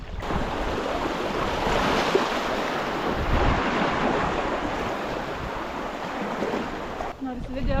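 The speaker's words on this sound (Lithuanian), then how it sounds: "O čia kriokliukas mažas." Water rushes steadily over a small waterfall on the Dubysa river during a homemade-boat trip, a loud, continuous broadband roar close by with wind buffeting the microphone throughout.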